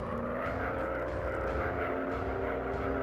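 A World War I propeller plane in a virtual-reality dogfighting game at night, producing a continuous droning engine buzz with steady harmonics, moderately quiet and without speech.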